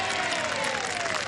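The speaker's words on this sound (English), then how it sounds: "Give the fans something to really cheer about." Golf fans at the Evian Championship break into applause after a putt, a dense, sustained wash of clapping from the gallery.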